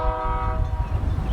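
A Union Pacific local freight train crosses Highway 101 near grain silos, sounding a loud, steady horn blast over a low rolling rumble of rail cars.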